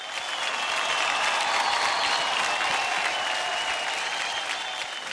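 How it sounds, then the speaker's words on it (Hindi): Loud, dense applause from a studio audience on the Indian dance TV show Dance India Dance, a continuous wash of clapping with a faint crowd murmur, holding steady from start to finish. "जोरदार ताली हो जाए।"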